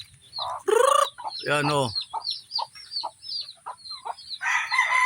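A hen and her chicks out in the yard after rain give repeated clucks and a loud rooster-like squawk, close by, amid soft peeping, with a person's occasional speech.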